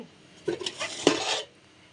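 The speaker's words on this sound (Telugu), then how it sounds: "ఈ దోశ బ్యాటర్ వేసేస్తాను మొత్తం. అప్పుడు ఈ స్టీల్ గిన్నె కడిగేసుకోవచ్చు." A steel bowl clinks and scrapes against a can as dosa batter is poured out, with a short burst of metallic knocks and clatter in a quiet kitchen. No one speaks.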